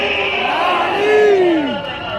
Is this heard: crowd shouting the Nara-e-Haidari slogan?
yes